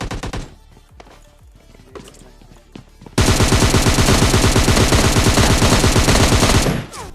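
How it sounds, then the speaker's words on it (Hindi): Rapid automatic gunfire in a video game starts after a few quieter scattered sounds, then holds as a loud, dense, steady stream of shots for several seconds before stopping. "तो फिर अपनी गन उठाते हैं और चलते हैं बजाने के लिए"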